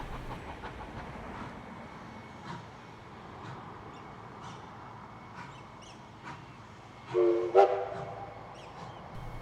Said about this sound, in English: We see the loco pulling into Buxton